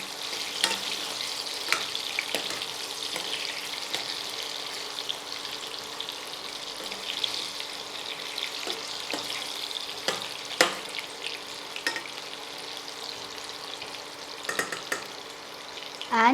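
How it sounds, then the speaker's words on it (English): Potatoes fry over a low flame in a pan, giving a soft, steady sizzle with occasional stirring scrapes and clinks, fairly quiet and without talk. "Then I will start to fry it in a low flame."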